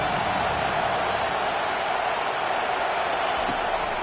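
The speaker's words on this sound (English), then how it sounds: "Decibels rising as the crowd gets behind this defense on third down" Stadium crowd at an American football game on third down: a continuous loud roar of cheering fans, dense and steady, filling the whole stretch with no distinct voices standing out.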